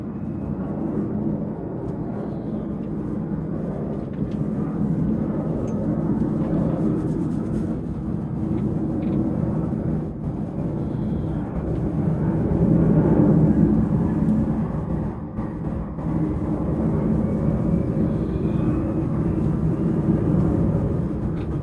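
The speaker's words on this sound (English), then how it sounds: "Another plane's about to go over my house" A propeller or jet airplane passing over a house, a steady broad low rumble that holds throughout and swells slightly midway, with no talking.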